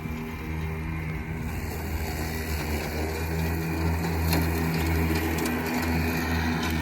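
A lawn mower engine runs steadily nearby in a garden, giving a continuous droning hum with low harmonics and no talking.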